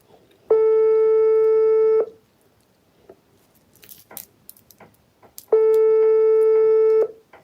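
An outgoing phone call rings unanswered: two long, clear ringback tones about five seconds apart, with quiet background rustling in between.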